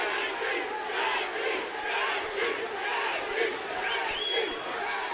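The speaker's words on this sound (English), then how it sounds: "The crowd is now on their feet, chanting Gaethje." Fight crowd at a WSOF 23 bout between Justin Gaethje and Luis Palomino, on their feet roaring and chanting Gaethje in rhythmic, sustained waves filling the arena.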